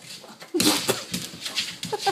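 A dog stuck under something gives close, strained whimpers and short whines, several thin cries in quick succession with scuffling between them.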